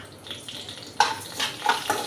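Fenugreek seeds sizzle in hot oil in a pan, a soft frying hiss that swells into louder crackling bursts partway through.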